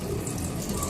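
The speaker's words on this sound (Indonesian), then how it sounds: "kita membasahi tangan menggunakan air mengalir" Hands being wetted under a running tap, a steady close rush of flowing water splashing into a sink with no speech.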